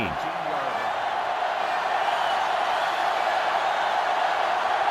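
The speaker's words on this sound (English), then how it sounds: "And this crowd is going crazy." A stadium crowd roars at a Michigan versus Ohio State college football game, a loud, steady wall of cheering that fills the whole stretch without a break.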